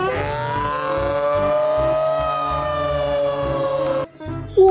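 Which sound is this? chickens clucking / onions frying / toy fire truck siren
toy fire truck siren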